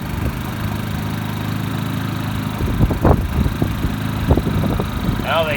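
Generac IQ3500 inverter generator running at a steady, low, even hum throughout, with a couple of slightly louder bumps partway through.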